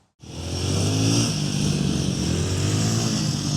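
A loud motorcycle engine drones steadily, its revving roar sustained throughout as the bike rides past at close range on a flat track.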